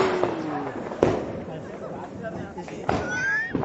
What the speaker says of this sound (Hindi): और ये पहला बम